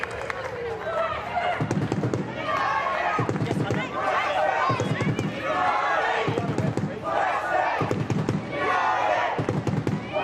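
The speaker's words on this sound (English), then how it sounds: "That's gotten the crowd up and about as well." Stadium crowd noise swells and cheers throughout an A-League women's football match between Western United and Newcastle Jets, a steady roar under continuous commentary.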